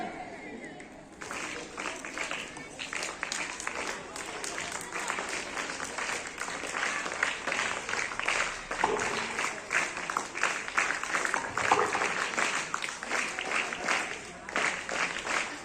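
Steady applause from an audience at a school annual sports day, sustained and fairly close, with dense clapping running throughout and a voice speaking over it.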